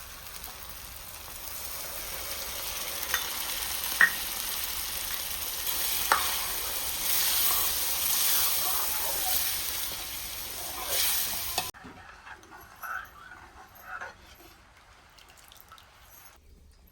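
Onion, ground masala and dal frying in a pan, a steady soft sizzle with stirring scrapes and small drips before the heat drops away to quieter stirring.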